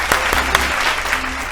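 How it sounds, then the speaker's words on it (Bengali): Loud applause from a game show studio audience, a steady wash of clapping that fills the short moment without talk. "হাততালি জোরে"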